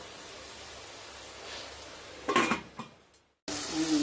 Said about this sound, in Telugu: ఇప్పుడు కొద్దిసేపు దగ్గర అయ్యే వరకు మూత పెట్టుకోండి